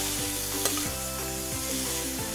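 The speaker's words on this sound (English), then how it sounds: "Add about 1 tablespoon of soy sauce along the edge of the pan to enhance the soy sauce flavor." Soy sauce sizzles on cauliflower with garlic and rosemary in a hot wok, a steady frying hiss with periodic scraping stir strokes and one sharp clack.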